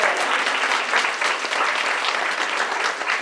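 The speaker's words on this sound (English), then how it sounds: "another round of applause." An audience at a St. Johns holiday special claps loudly and steadily, a dense, continuous round of applause filling the room from start to finish.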